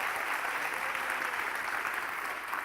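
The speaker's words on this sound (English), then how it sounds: "Give these guys a round of applause." An audience at a live science-festival stage show applauds, a dense, even wash of clapping from many hands that holds steady and loud throughout, with no voices standing out.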